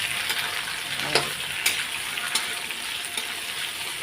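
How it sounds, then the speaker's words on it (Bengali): Spices frying in a pan for paneer makhani, a steady soft sizzle with occasional sharper crackles and stirring clicks. "এবার এগুলো একটু ভেজে নেব কিছুক্ষণ।"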